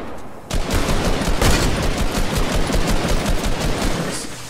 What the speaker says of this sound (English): Oh, the AR sounds different.